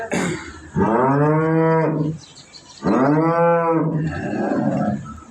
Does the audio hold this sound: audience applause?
no